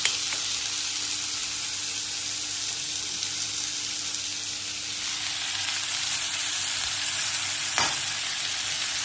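Vegetable curry masala of brinjal and potato frying in a pan, a dense continuous hiss and sizzle held steady throughout, close and loud, with one brief scrape of stirring near the end.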